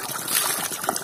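Water gushes and trickles from an opened joint on a roadside drinking-water pipe in a hillside village, a brief steady splashing flow heard up close.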